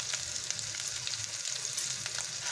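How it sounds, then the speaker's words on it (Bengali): Ginger frying in oil in a pan, a continuous close hiss and crackle with occasional faint stirring scrapes, even and unbroken. "এটাকে আমি ভালো করে ভেজে নেব যতক্ষণ না আদার গন্ধটা, কাঁচা গন্ধটা যায়"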